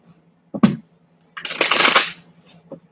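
Tarot cards are shuffled by hand: a brief flick and tap, a pause, then a longer riffling burst of rapid card slaps, close up and alone.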